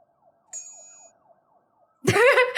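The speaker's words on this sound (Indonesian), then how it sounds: "Dengerin ambulans kayak horor gak sih?" A faint ambulance siren sound effect warbles in quick repeating falling sweeps alongside a brief high tone, then a voice cuts in loudly at the end.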